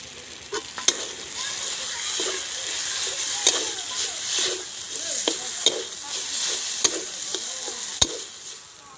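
Chhana (cottage cheese) stuffing for potoler dorma fries in a pan, a steady close sizzle with scattered scrapes and taps of a spatula stirring throughout, no voices.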